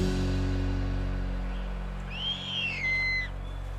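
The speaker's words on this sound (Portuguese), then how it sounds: "Já as corujas parecem até que vivem distraídas, mas deve ser um truque para não despertar a atenção dos predadores" An owl in the African wild gives a clear hooting call that rises and then holds steady, standing out plainly above a low, steady background rumble.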